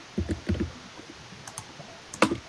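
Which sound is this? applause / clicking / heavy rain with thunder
clicking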